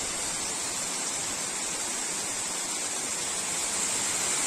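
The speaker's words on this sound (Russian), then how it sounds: "посмотреть такой зеленый, такой мохового цвета водопад" An ephemeral waterfall, moss-green in colour and fed by melting snow on a river above Uchan-Su, pours in a steady, dense hiss close by, unbroken for the whole stretch with no voices.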